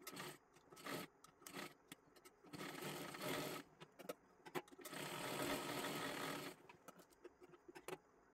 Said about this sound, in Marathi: इथे अशाच पद्धतीने आपण इथे त्रिकोणी त्रिकोणी शिलाई करून घ्यायची आहे